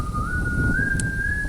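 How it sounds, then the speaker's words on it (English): A single sustained whistle drifts slightly upward in pitch, clear and prominent over a low dull rumble, heard outside among trees in complete darkness with no footsteps or voices. "did someone just whistle?"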